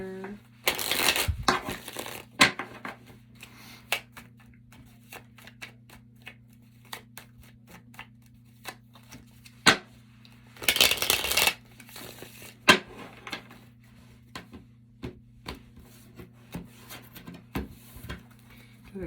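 Tarot cards shuffled in bursts, with scattered soft taps and slides between a couple of louder rustling flurries, close up and no talking.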